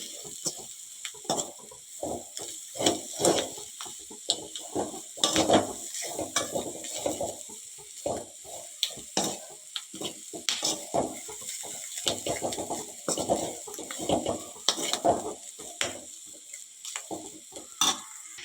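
Ingredients are stirred and mixed in a cooking pan with repeated rhythmic scraping and rattling strokes, close by, steady over a faint background sizzle.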